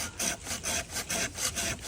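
A hand saw cuts through a fruit tree branch in quick, even back-and-forth strokes, about seven rasping passes in under two seconds, close and moderately loud.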